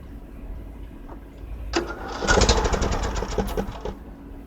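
A John Deere LA105 riding lawn mower engine cranks briefly and then fires up, running with a loud, rough, pulsing rumble up close.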